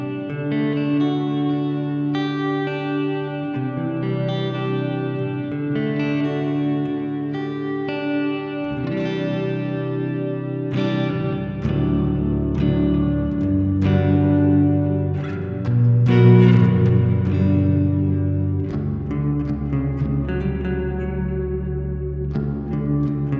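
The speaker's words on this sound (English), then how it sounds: "I might want to add a whole bunch more mix to that reverb, get it super washy." Electric guitar played through the Neural DSP Archetype Nolly amp plugin, its sustained chords and ringing notes smeared into a thick, washy reverb tail, loud and steady throughout with no talking.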